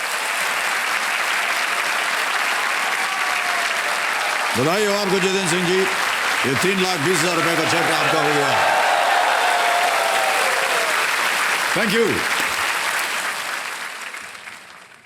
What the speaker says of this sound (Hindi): मैं चाहता हूं कि जोरदार तालियां बजाएं